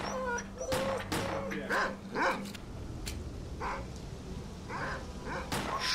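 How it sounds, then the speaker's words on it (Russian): Rabid mutant dogs in the video game S.T.A.L.K.E.R. bark, yip and whimper in repeated sharp bursts over game background noise, with a voice talking over them at times. "Это мутантские собаки бешеные."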